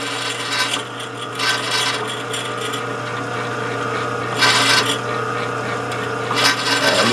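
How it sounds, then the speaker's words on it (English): Lathe center-drilling a homemade hand-piece for a hand engraving machine, a steady machine hum with scraping, rasping cutting bursts that swell and fade several times, fairly close. "Center drill it."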